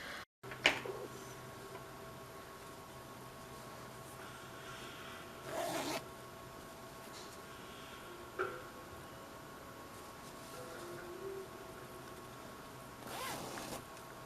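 A zipper sewn into a plush bag is pulled open and shut in a few short, close rasping strokes, separated by quiet pauses.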